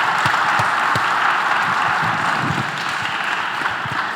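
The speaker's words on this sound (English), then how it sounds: "I know you just did some clapping" An audience claps steadily throughout at a cooking event featuring Miami cuisine, a dense wash of applause with a few sharper individual claps standing out nearby, no voices heard.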